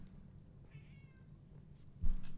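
A cat gives a single short, fairly faint meow indoors, followed by a soft thump nearby.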